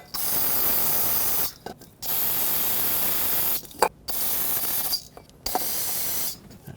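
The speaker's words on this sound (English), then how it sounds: "I'm going to spray some brake parts cleaner right at the base of these injectors" Brake parts cleaner hisses from an aerosol can aimed at the base of the fuel injectors on a 4.0L V6 Ford Ranger, in four long sustained bursts separated by short pauses and a few small clicks.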